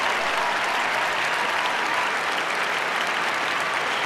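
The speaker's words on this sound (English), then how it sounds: "This is Viktor Petrenko leading the applause in the middle there" Arena audience at the 1994 Lillehammer Olympics applauding after a women's free skate figure skating performance, a steady, dense wash of clapping from a large crowd heard at a distance.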